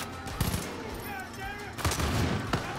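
Gunfire with heavy recoil in the video game Far Cry 5, several sharp shot bursts in quick succession amid game noise, with a voice talking partly over them.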